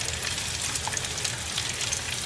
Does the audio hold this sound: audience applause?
no